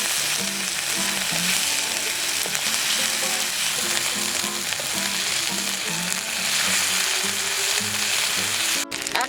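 Spices with green chilli paste and sugar fry in a pan, giving a loud, constant sizzle with soft stirring scrapes throughout, close up and without speech.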